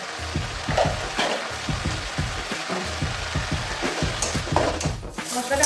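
Turmeric and other spices sizzle in a pan as they are stir-fried for a prawn and broccoli dish. The close, steady crackle is punctuated by rhythmic scraping and stirring strokes, with no voices heard.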